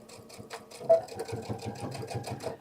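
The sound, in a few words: sewing machine stitching a seam of a bag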